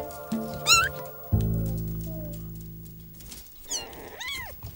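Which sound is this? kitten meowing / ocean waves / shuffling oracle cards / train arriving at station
kitten meowing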